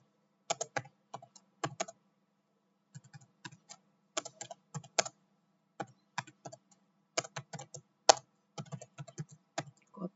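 Someone types code on a computer keyboard in short bursts of clicky keystrokes separated by pauses, close and clear, with a steady low hum behind.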